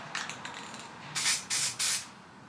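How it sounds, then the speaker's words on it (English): A spray gun spraying self-etch primer onto bare metal hisses in three firm bursts after a few lighter, shorter puffs, close and loud with short pauses between. "Alright, I got everything masked up, so we'll start spraying."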